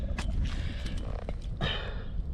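A bait pump drawing lugworm up from wet sand gives a few short squelching, sucking pulls with a creaky, mechanical edge, close and fairly loud, with no voices.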